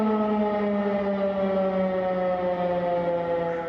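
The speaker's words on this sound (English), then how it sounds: "Sunrise and sirens." A loud air-raid siren in Ukraine drones on one long, steady tone with no voices, holding its pitch throughout.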